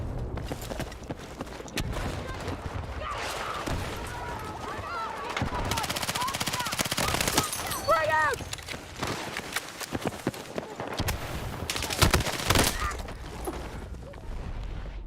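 Gunfire in a horror video game, repeated bursts of shots scattered through the stretch amid game sounds, with a person talking at points over the shooting.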